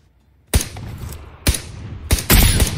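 Gunfire in PUBG Lite on PC, several loud sharp shots in separate bursts, the last a longer rapid volley, with no talk over them.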